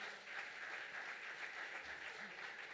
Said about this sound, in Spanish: Déselo con vida ese aplauso al Señor.